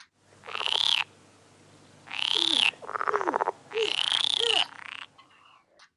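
Loud, close croaks from frogs and toads in separate bursts, some long and trilling, others rapid and rattling, with short silences between calls.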